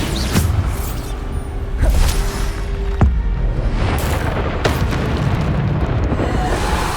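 Bombarda spell explosions from the video game Hogwarts Legacy boom repeatedly over a dense, rumbling background of battle noise, with several sharp blasts and crackles spaced about a second apart.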